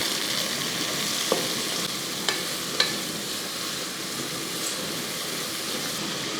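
Onions sizzle steadily in a pan for a curry gravy while being stirred, with a few sharp spoon clicks against the pan over the constant frying hiss.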